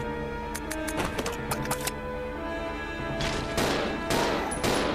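Repeated shotgun blasts from the video game Resident Evil 0, a run of sharp loud reports over steady game music and ambience, followed by heavier bursts of noisy impacts.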